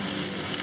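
Taiwanese spinach leaves hitting a hot garlic stir-fry pan, giving a short, dense, hissing sizzle that stays close and even throughout.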